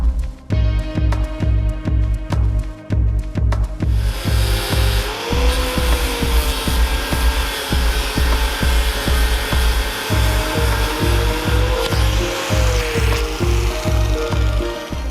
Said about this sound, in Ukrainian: Для цього будемо використовувати шліфувальну машину.